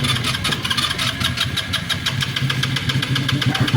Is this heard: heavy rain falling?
no